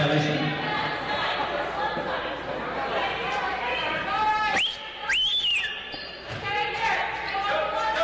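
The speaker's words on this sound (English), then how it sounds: "whistling out of her mask, and you can hear it" A high, sustained whistle through a face mask rises briefly over a noisy basketball gym full of crowd chatter and bouncing balls.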